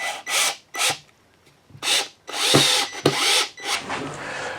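A power driver sinks 3-inch deck screws into a large dry, end-grained wood bowl blank, making a series of loud, separate whirring bursts with short pauses between them.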